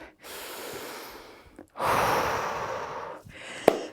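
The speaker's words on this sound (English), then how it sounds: "Just breathing in through the nose, out through the mouth" Heavy, forceful breathing during a mountain-climbers HIIT workout: a few long, noisy breaths in and out, close and fairly loud, ending with a short sharp puff.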